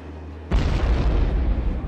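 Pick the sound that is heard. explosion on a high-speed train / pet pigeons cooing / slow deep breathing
explosion on a high-speed train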